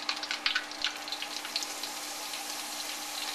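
Zucchini flash frying in hot oil in a home kitchen, a faint steady sizzle with scattered crackles and pops that stay quiet and continuous throughout.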